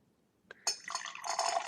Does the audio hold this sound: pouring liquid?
yes